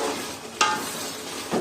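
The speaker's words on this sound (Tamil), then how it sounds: "ஒரு 2 நிமிஷம் போல் நல்லா ஆயிலில் ஃப்ரை பண்ணிக்கலாம்." Chili paste fries in hot oil while being stirred in a pan, giving a steady close sizzle with a couple of sharper scraping stirs.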